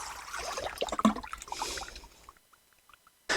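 Plain water is poured around a newly planted rose, splashing and trickling unevenly for a couple of seconds before falling quiet, with a final splash at the end.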